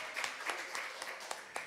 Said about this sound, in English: that was applause for my wife